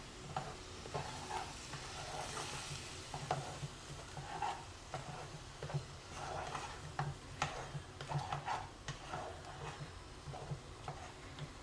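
Spinach and tomato puree are stirred in a pan, with a low, steady sizzle under a run of soft, repeated spatula scrapes and ticks. The sound is fairly quiet and close, with no voices.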